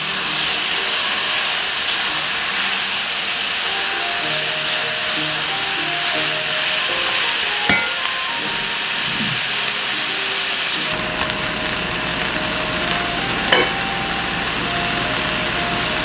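Beef browning in a pot for boeuf bourguignon gives a steady, close sizzling hiss that runs unbroken for the whole stretch, with a brief clatter partway through and no talk.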